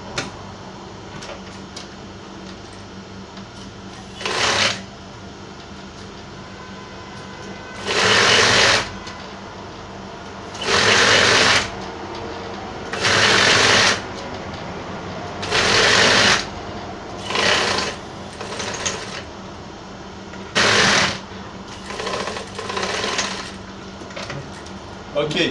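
A sewing machine closes the edges of smocked, shirred dress fabric in about ten close, loud bursts of rapid stitching, each lasting one to two seconds and separated by short pauses.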